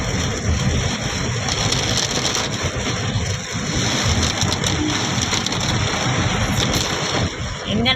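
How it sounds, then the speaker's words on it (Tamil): Heavy rain pours on a car in Tiruppur, heard from inside as a loud, dense, steady roar that fills the whole stretch without letting up. "அப்பா சரியான மழைங்க."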